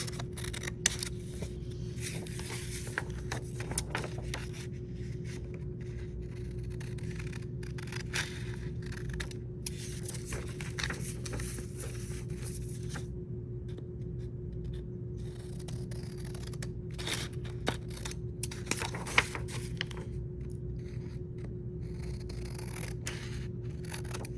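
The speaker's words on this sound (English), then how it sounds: "So I'm gonna take a pair of scissors. I'm just gonna snip off each corner." Repeated small snips of scissors cutting paper, quiet and close, spaced irregularly over a steady low background hum.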